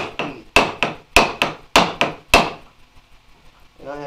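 Six hard, evenly spaced wooden knocks of a mallet driving a semi-dull chisel through wood, each ringing briefly before the next, then a short pause.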